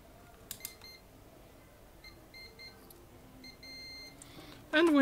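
A continuity tester used on a vintage Polish flashlight gives short high electronic beeps in several brief bursts, then a sustained tone and a louder rising squeal at the end.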